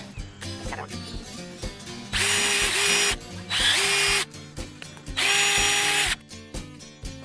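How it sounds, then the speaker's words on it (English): A power drill whirs in three loud bursts of about a second each, separated by quieter handling clicks and clatter. "Make a mark, and then we're going to drill a hole through it."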